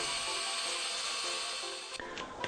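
A Norbar torque wrench tightening a wheel nut gives a steady, smooth whirring drone that runs evenly and then stops, followed by a couple of brief clicks near the end.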